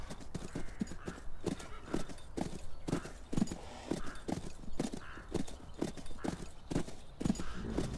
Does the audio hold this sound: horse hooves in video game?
yes